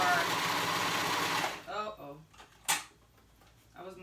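A cover stitch machine runs in a fast continuous buzz for about a second and a half, then stops, followed by clicks and handling noises of the machine and fabric while someone talks.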